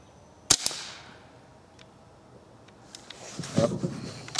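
.22 CB Short rifle shot fired at a target, one sharp loud crack near the start with a brief decay, then quiet until handling and mechanical clatter of manually cycling the action near the end.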